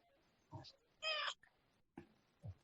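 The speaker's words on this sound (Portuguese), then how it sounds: "todo mundo que estiver ouvindo ela miando, aceita" A single short meow from a cat stands out between soft, low background voices, fairly faint overall.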